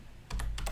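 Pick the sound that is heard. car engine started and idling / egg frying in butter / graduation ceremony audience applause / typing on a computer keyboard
typing on a computer keyboard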